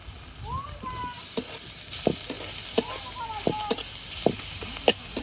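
Onions and green chilies frying in a pan in a village kitchen, a steady close sizzle broken by repeated stirring scrapes and clinks, with brief faint voice fragments.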